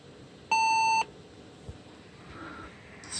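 An HP Compaq dc 7700 desktop computer gives a single clear half-second beep as it restarts, loud against a quiet fan hum.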